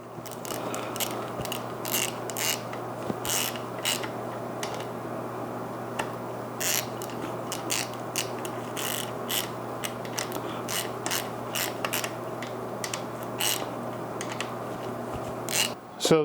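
Ratchet clicking steadily in repeated bursts while tightening bolts on a Chevy 350 engine being sealed up, fairly close and distinct over a constant low hum, with no voices.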